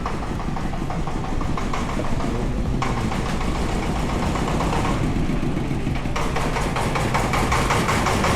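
A large truck engine rumbling steadily at idle, a constant low throb with a slight shift in tone midway, nearby and without any voices.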